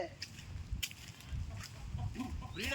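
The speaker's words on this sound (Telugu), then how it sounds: "మొత్తం కోళ్ళన్నీ పందెం కోళ్ళు ఇవన్నీ" Fighting game roosters kept by a breeder in Godavarikhani, Telangana, cluck and call in short bursts nearby, with a louder, drawn-out crow-like cry near the end over light background noise.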